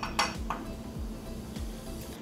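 A metal mixing spoon clinks and scrapes against glass while stirring a rum cocktail with bitters, a few bright taps over a steady low hum, close and fairly quiet.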